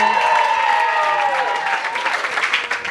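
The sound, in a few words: wedding guests' applause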